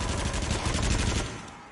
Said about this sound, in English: It's cannons.